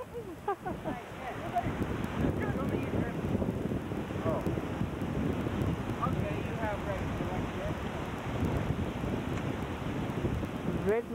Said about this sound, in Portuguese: Tá um vento de lascar, meu irmão.